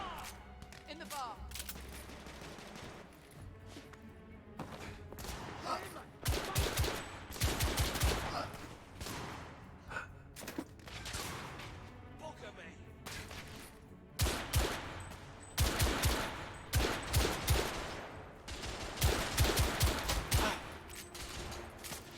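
Bursts of gunfire in The Order: 1886, rapid volleys of shots in clusters separated by short pauses, loud and close, with a voice talking at points between the shooting.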